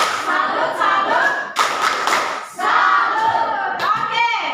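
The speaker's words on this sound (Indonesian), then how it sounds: "Mari kita berikan tepuk salut." A school classroom claps together in the rhythmic Indonesian "tepuk salut" cheer, bursts of group clapping with shouted calls from the students.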